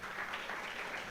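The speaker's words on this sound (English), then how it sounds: "Let's welcome him with a big round of applause." Audience applause fills a college hall at a hospitality students' career guidance event, a steady dense wash of clapping that holds evenly from start to finish.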